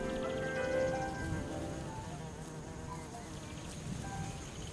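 Dense, steady buzzing of many kept honeybees close by at flowering cucumber plants, a continuous droning hum with no pauses.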